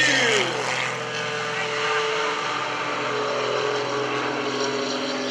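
A carbon fiber MX2 aerobatic airplane roars at full throttle in a steady, loud, droning propeller drone at an airshow, while an announcer's voice carries over the engine noise.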